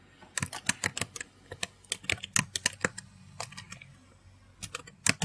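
Quick bursts of typing on a computer keyboard, crisp close keystrokes in uneven runs with a short pause before a final flurry, entering a new project name.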